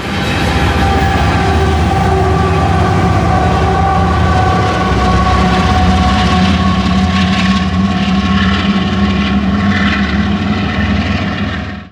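A loud, sustained rumble of CPKC freight train locomotives with distributed power units and rolling freight cars passes close by along Rich Mountain, engines droning with rattling wheels for the whole stretch, slowly easing toward the end.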